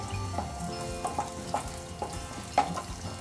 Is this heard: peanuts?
yes